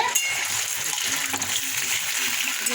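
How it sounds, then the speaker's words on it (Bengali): Close, continuous crackling sizzle of fish frying in oil in a wok, steady and busy from start to finish with no voices. "মাছটা কড়ায় অর্ধেক দিয়ে দিয়েছি ভাজা হচ্ছে"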